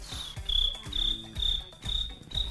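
A human voice imitates a cricket's chirping with shrill, rhythmic trills that repeat about five times in close, loud bursts with short pauses between them, and no talking over it.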